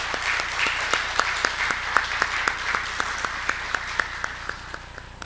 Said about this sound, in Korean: 우리 격려의 박수 한번 주시겠습니까?